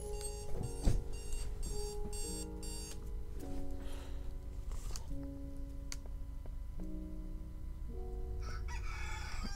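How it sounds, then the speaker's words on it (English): Several alarm clocks go off together early in the morning, overlapping tonal beeps and chimes in shifting melodic patterns alongside a rooster-like crowing call, fairly faint and steady with no talk. "Sorry, all my alarms are going off."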